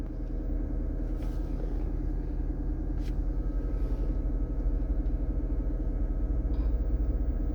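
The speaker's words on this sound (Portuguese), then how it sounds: "Eu vou ficar quieto alguns segundos, só para você ouvir o som da cabine com o carro ligado" Inside the cabin of an idling 2022 Toyota SW4 Diamond with a diesel engine, a steady low rumble and hum hold constant with no other sounds.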